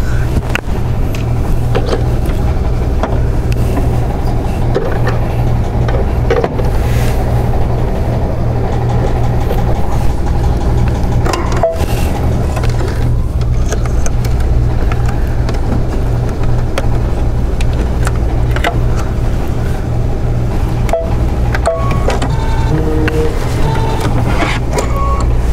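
Embroidery machine stitching a placement line for a pocket on a tooth fairy pillow, a loud, continuous mechanical drone with a steady low hum and fine rapid ticking throughout.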